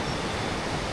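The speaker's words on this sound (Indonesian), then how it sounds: "Sungai-sungai yang mengalir deras." Fast-flowing mountain river beneath a bridge on the Annapurna Base Camp trek in Nepal, heard as a dense, continuous rushing roar, loud and steady with no talk.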